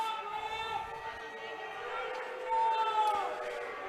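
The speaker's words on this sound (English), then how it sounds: "Crowd not happy either." Indoor soccer match crowd murmuring and jeering in displeasure, a distant, reverberant arena roar with whistle-like tones, swelling near the end, under a commentator's talk.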